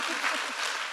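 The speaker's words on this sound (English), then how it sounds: "that is worth clapping for" An audience claps at a climate-policy speech, a short dense burst of applause with a few voices briefly audible underneath.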